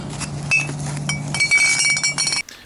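Glass bottles and jars clinking against one another while being sorted from a dumpster, a series of sharp bright clinks and rattles over a low hum, ending abruptly.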